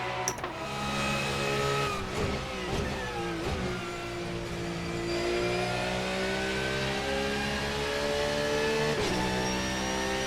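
A GT3 race car engine in a racing game at Monza, revving hard and steady near the Parabolica, with pitch sweeping down and up through gear changes and braking.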